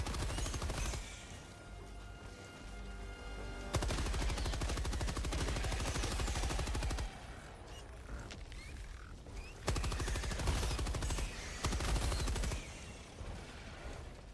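Machine gun fire in the video game Helldivers, coming in long loud sustained bursts that start and stop several times, with short quieter gaps between volleys.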